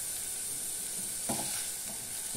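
Chopped onion frying in a pan for paneer molee, cooked until lightly reddish. A steady, faint sizzle runs throughout, with a single soft stir or clatter near the middle.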